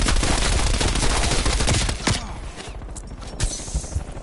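Machine gun fire in Call of Duty Cold War, a dense rapid burst of shots lasting about two seconds, then thinner scattered shots and game noise.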